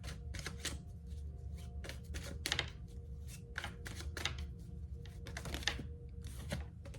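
Repeated crisp riffling bursts of tarot cards being shuffled, steady and close, with a low hum underneath and no talking.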